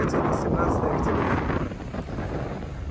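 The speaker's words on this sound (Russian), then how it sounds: "Да, ветра сейчас. Ветра, конечно." Strong wind blows along a seaside shoreline, a steady loud roar buffeting the microphone from start to finish.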